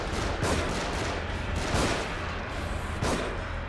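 Enemy gunfire in The Evil Within, a dense continuous barrage with a few heavier booming shots standing out, loud and close.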